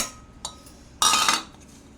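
A pestle strikes twice in a mortar while pounding chilies, a light knock and then a heavier, scraping pound, close by with quiet between.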